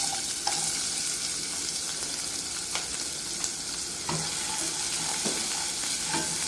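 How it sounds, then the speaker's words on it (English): Onions frying in olive oil in a pot, a loud continuous close sizzle with occasional soft utensil knocks, heard alone without speech. "I have 2 teaspoons of olive oil going. And I will now add my onions."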